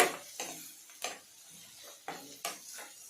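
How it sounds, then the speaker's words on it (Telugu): A spoon scrapes and clinks against a pan about five times at an uneven pace while ginger garlic paste is stirred into a soya chunk curry. "వేసేసుకుని ఇలా మిక్స్ చేసేసుకుంటున్నాను"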